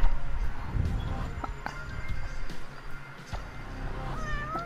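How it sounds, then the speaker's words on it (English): A cat meows a few times inside a video game, the short calls set over a busy game soundscape with scattered clicks and light thuds. "Oh, there's the cat."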